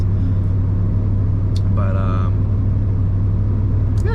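A muscle car engine and exhaust rumble in a deep, steady idle close by, with a voice speaking briefly over the drone.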